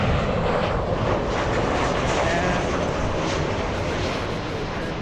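A large airliner taxiing to the runway at LAX in Los Angeles, a steady, loud engine roar and whine that holds evenly throughout, with no talking.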